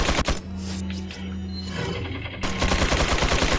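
Gunfire in Resident Evil 4, with a couple of sharp shots at the start and a dense, loud burst of rapid firing near the end, no talking.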